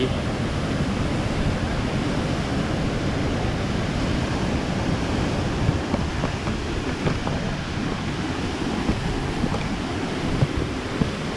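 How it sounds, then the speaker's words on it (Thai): Steady, loud rush of water roaring continuously, a dense broadband wash from the Somphamit (Li Phi) waterfall on the Mekong at Don Khon, Champasak, Laos, close by, with no pauses throughout. "นี่คือท้ายๆน้ำตก"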